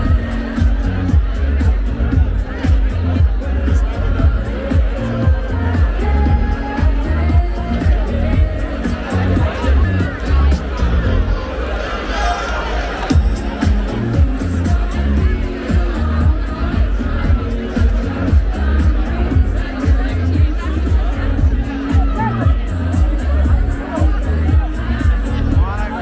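A dense, loud crowd at King's Day celebrations in Amsterdam, with continuous babble of many voices, shouting and occasional bangs blending into a constant roar around the listener.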